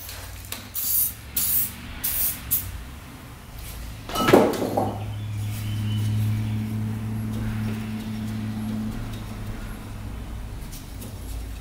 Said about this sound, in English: A little penetrating oil on there.